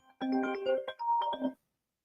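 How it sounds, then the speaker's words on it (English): A phone ringtone for an incoming call plays during a live call-in sports show: a short, melodic electronic chime sequence of several tones, clear and close, ending abruptly into silence. "got a phone call"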